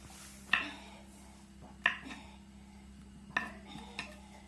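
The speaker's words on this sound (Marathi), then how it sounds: "केळ सोडून घेतलेली मी पूर्ण आणि चाकून असं गोल गोल कापून घेणार आहे" A knife slices a peeled banana into round pieces. Four sharp, quiet taps on a board are spaced about a second apart, with faint kitchen clatter between them.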